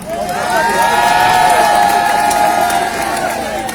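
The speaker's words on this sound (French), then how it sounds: "Applaudissez encore pour vous-même" Outdoor crowd at a political march on Place de la République cheering and applauding, loud sustained shouts and whoops with clapping beneath, voices rising in long held cries close by.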